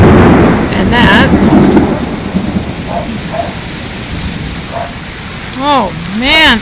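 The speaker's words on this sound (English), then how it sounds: "The rain's crazy." Heavy afternoon rain pours down in Ohio, a loud, steady wash of drops beating on surfaces close by, with a few brief swelling tones rising over it near the end.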